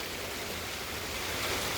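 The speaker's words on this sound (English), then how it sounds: "Look at this rain." Steady rain falls across a backyard in an unbroken, even hiss of drops striking the ground, fairly quiet, with no voices.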